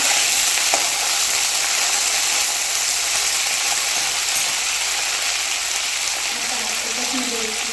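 Green chillies roasting in a pan over medium heat for a Kolhapuri thecha, giving a steady, loud sizzle throughout with faint clicks of stirring.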